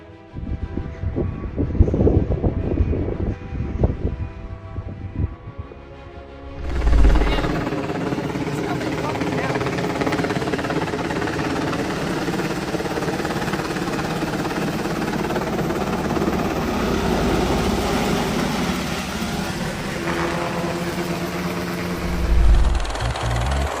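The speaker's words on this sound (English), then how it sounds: "A Mi-26 helicopter crashed into the snow-covered ground while attempting to land in Russia." A large Mi-26 helicopter descends toward snow-covered ground in Russia and crashes on landing, a loud continuous rotor and engine roar with a sudden burst as it hits, under some voices early on.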